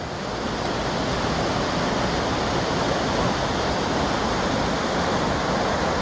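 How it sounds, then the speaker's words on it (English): Roaring waterfall in Triglav National Park, Slovenia, its steady broadband rush of falling water filling the scene loudly and evenly, close by and with no voices. "I'm sort of looking back now at those falls you saw."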